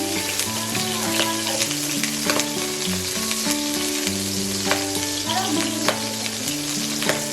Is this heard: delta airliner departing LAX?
no